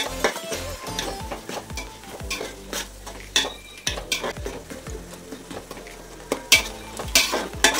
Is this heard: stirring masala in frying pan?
yes